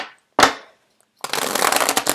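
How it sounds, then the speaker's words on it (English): Tarot cards are shuffled in two bursts: a short single riffle snap, a pause, then about a second of continuous papery riffling, close and fairly soft with no talk. "The cards are not shuffling too well."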